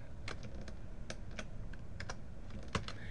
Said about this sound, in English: Now, if I come over here and type Timmy,